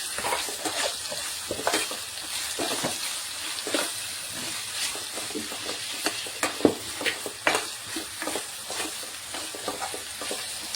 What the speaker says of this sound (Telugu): ఇందులోనే అల్లం వెల్లుల్లి పేస్ట్ వేయాలి ఫ్రెండ్స్ ఒక టేబుల్ స్పూను పచ్చి వాసన పోయే వరకు ఫ్రై చేయాలి